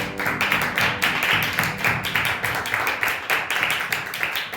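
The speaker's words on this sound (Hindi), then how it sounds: "ताली बजाकर हम प्रभु के नाम की तारीफ करें।" A church congregation clapping in praise: steady rhythmic group handclaps in a regular beat, fairly loud and continuous throughout.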